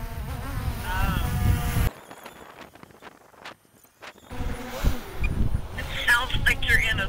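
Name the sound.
DJI Mavic Air 2 drone buzzing like bees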